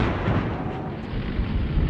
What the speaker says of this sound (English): As the civilians fled Dong Ha, North Vietnamese guns began ranging the city.